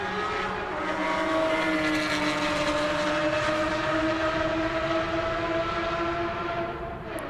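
A Porsche GT4 race car runs down the front straight at the Circuit of the Americas, its engine holding a loud, steady, close roar for several seconds with no talk over it.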